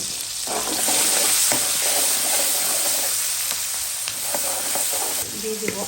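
Potatoes frying with onion and green chili in a pan for a snakehead fish curry with cauliflower, giving a steady bright sizzle with spoon stirs and scrapes scattered through it.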